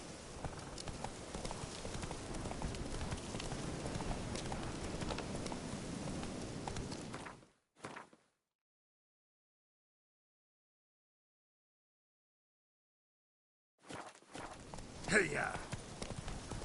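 Hooves of Roach, a horse in the video game The Witcher 3, clip-clop in a steady running rhythm, stopping abruptly into silence, then picking up again with some game ambience.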